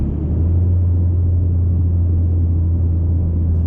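Mazda3 exhaust with the muffler deleted, a steady loud low rumble droning without a break, close by and with no voices over it.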